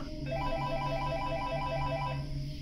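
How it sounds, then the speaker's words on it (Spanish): A telephone rings in a room at night, a steady electronic ringtone repeating its warbling pattern for several seconds, alone and fairly close, over a low background hum. "sonó el teléfono en la sala"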